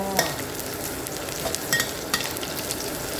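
Garlic frying in a hot pan, a close continuous crackling sizzle broken by a few sharp clicks and scrapes of a utensil stirring, at a moderate level, with no talking.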